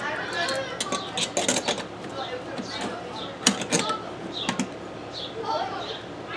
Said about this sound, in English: we're going to go ahead and tighten the bolt that is against here, the stainless steel paneling